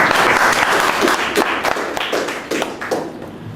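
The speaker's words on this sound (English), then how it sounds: "So one applause for Crystal." Audience applause at a condo recycling talk, dense clapping from a crowd that stays loud, then thins and fades slightly toward the end.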